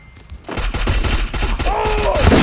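Rapid bursts of gunfire from a mobile phone shooting game rattle loudly and almost continuously, dense automatic fire with a few faint electronic tones layered in.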